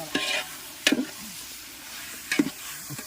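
Egg gravy being stirred in a pan at a festive get-together: three or four quick scraping stirs, each a short clatter, over a faint background sizzle, with no voices.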